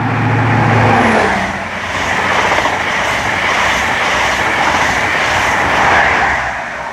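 A Great Western Railway HST with power cars 43170 and 43159, running the London Paddington to Bristol Temple Meads service, rushes past with a loud sustained roar and wheel rumble, swelling and easing as carriages go by.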